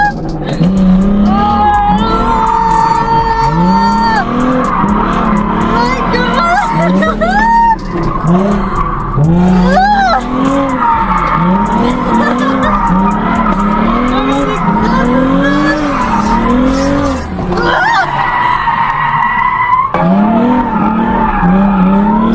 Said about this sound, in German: Okay, Friends, ich werde jetzt ein bisschen Drift-Taxi spielen.